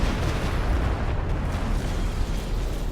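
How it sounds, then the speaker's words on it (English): Dense, continuous rumble of Stuka rocket barrage explosions in Company of Heroes 2, a heavy layered roar of overlapping blasts held at a steady loud level with no clear gaps between impacts. "You have another Stuka barrage coming in."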